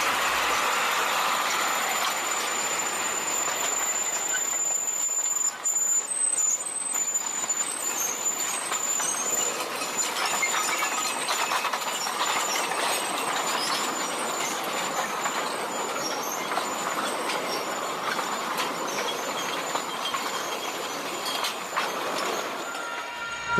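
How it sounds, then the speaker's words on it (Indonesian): Sugarcane train locomotive of the PG Kedawung mill running fast at night on old KAI rails, a steady roaring rumble with metallic wheel squeal and rattling wagons throughout, loud and continuous. "lokomotif mulai melaju lumayan cepat, teman-teman"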